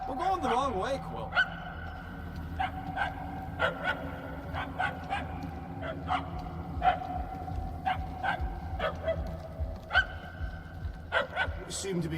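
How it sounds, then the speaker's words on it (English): Dog barks in Marvel's Guardians of the Galaxy video game, a series of short, fairly faint yips repeating irregularly over a steady game background hum while characters talk. "The barking is getting fainter."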